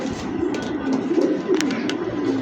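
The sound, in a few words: racing pigeon cooing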